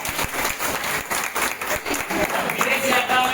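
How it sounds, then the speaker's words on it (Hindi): Loud applause from a large audience at a Modicare celebration event, dense continuous clapping with swells and some crowd voices throughout. "जोरदार तालियां"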